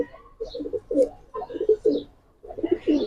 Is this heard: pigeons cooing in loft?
yes